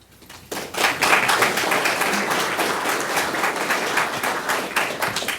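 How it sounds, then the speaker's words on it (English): Applause from a ceremony audience at a career signing day, beginning abruptly after a quiet moment and holding as a loud, dense wash of many hands clapping, with scattered nearer claps standing out. "I didn't need an applause"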